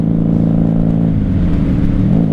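A 1994 Honda Magna 750 (VF750C) V4 motorcycle engine runs steadily under riding, its low drone dropping and shifting in pitch as the rider changes down through the gears, with wind roar throughout.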